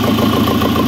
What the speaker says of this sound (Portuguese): Escapamento solto, né, ó, lá atrás ainda, mas tá aí, já tá funcionando